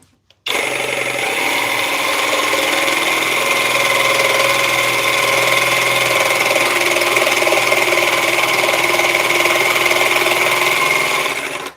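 An engine held at full throttle gives a loud, steady droning whine with strong harmonics that runs unbroken for about eleven seconds, with no talk.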